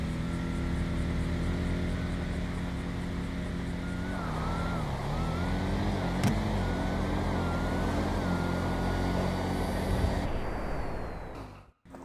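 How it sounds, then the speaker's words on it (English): Two cars drag race in the GTA video game, an ASP against a Nova, with loud engines revving and rising in pitch through gear changes, a sharp bang midway, then the sound cutting off at the end. "the ASP just walks out on that Nova, and Cobrinator takes the dub"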